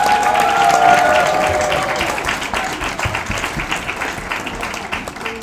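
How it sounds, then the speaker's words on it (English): Crowd at an event giving a large round of applause for participants, thick continuous clapping that starts loud with a brief tone at first, then thins slightly while carrying on. "Let's give them a huge round of applause."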